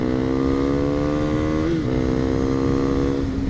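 A 2019 Husqvarna Vitpilen 401 motorcycle being ridden, its single-cylinder engine droning steadily with a brief dip and recovery in pitch, close and loud amid wind noise.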